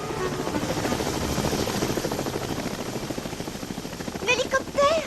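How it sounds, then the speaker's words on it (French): A helicopter's rotor thumps steadily and fills the scene, with voices speaking over the droning chop near the end. "C'est l'hélicoptère."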